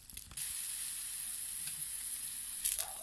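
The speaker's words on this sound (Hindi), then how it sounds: "थोड़ा सा चारों तरफ से पानी डाल लेंगे और ये ढक देंगे। इससे इसमें स्टीम बनेगी" Water splashed around kulcha on a hot tawa hisses into a steady, bright sizzle with steam, starting abruptly after a brief clatter and continuing evenly, fairly close and without talk.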